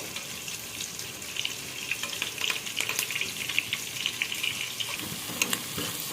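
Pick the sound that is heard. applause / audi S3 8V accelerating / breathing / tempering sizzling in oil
tempering sizzling in oil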